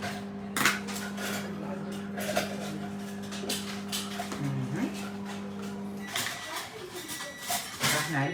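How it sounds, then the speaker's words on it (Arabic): A tahini jar is opened in a kitchen while making a herring salad, with close clinks and clatters of the lid and glass against utensils, and a voice talking over it. "فتحنا علبه الطحينه"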